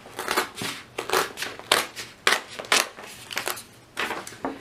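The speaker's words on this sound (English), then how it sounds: "And then with my scissors, I have cut off this edging." Scissors snip through paper in a steady series of crisp cuts, about ten of them, close up with no talking.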